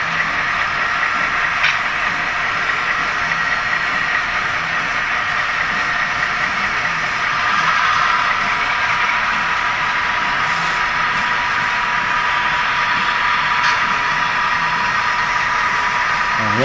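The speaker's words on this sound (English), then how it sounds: "We've got a mainline train going by." A mainline freight train rolls past a rail yard in a long steady roar of wheels and rumbling cars, holding an even loudness throughout, with faint squeals and clanks poking through now and then.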